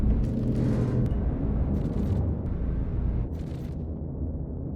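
A ship destroyed by an explosion in Star Citizen during a ship weapons test, heard as a sustained low rumbling blast with bursts of crackling debris that fades slightly toward the end.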